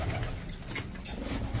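A racing pigeon flown in short- to long-distance races coos softly in a brief, fairly faint burst with no voices.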